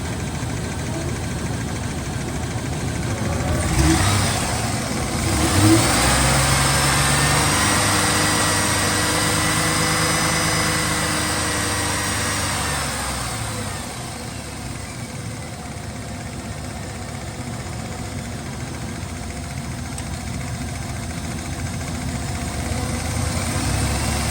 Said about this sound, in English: I think it's a bad lifter. Or a rod knot.